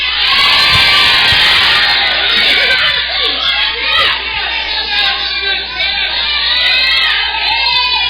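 Church congregation at a Santa Ceia (communion) service in Arraial shouting in response, a loud, dense crowd roar of many voices with cheering and yelling sustained throughout, close and continuous.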